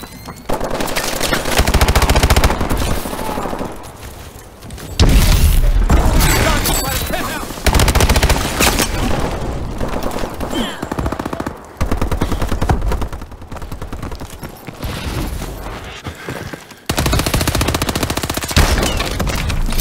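Bursts of automatic gunfire from Call of Duty: Advanced Warfare multiplayer, loud rapid volleys broken by short pauses, with game effects mixed in.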